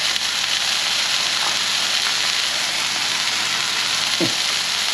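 Elk burgers fry in butter on a hot pan, giving a constant close, loud sizzle and crackle with a brief utensil scrape near the end and no speech.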